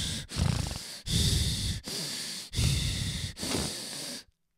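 A voice mimics heavy, lecherous breathing while ogling a woman: four or five long, loud, hissing breaths in steady rhythm, close to the microphone, with brief pauses between, ending abruptly.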